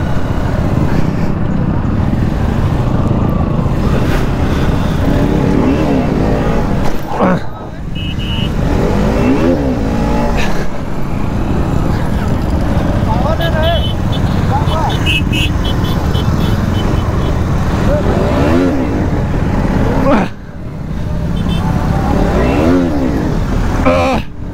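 A KTM RC 125 motorcycle revs hard during wheelie attempts, its engine note rising and falling in repeated bursts while people talk and shout loudly over it close by.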